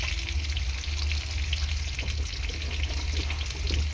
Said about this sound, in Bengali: দেখো আলুটা লাল লাল করে ভেজে নিয়েছি আমি এখন দিয়ে দেবো সবজিগুলো